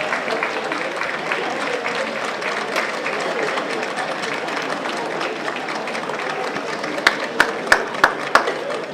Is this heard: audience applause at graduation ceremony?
yes